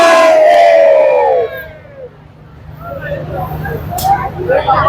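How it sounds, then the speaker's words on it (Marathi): A large crowd shouts and roars at a Gudi Padwa rally in Girgaon, loud at first and then dipping to a busier, more distant murmur of voices with scattered cries rising again toward the end. "गर्दी चेक करू शकता, भरपूर गर्दी आहे"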